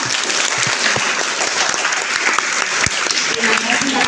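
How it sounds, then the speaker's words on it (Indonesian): A group in a seated indoor session claps for group 26, a dense, steady round of applause running the whole length with some voices mixed in. "Aplaus untuk kelompok 26"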